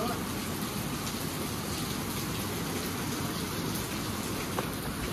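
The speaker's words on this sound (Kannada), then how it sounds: "ಹೆವಿ ಮಳಿ ಬರತ್ತಿತ್ತು." Heavy rain pours down steadily and close by, a dense, unbroken hiss of drops on surfaces throughout, with no talking.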